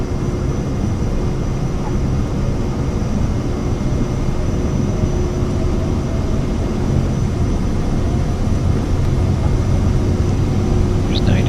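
Twin-sounding jet roar of a Cirrus Vision Jet at takeoff power in Microsoft Flight Simulator, a steady loud broadband rush with a faint high whine, continuous and unbroken with no talk.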